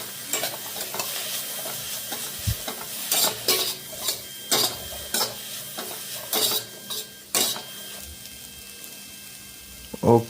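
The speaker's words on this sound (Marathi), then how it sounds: "आणि त्यानंतर मग हे मस्तपैकी चांगलं मिक्स करून घेऊया आपण." Spices and coriander powder being stirred in a frying pan, with repeated scraping clinks of a spoon against metal over a soft steady sizzle, close and moderately loud with no talking.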